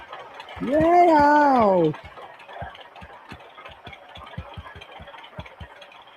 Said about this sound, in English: Look at this motor. I am burning it up.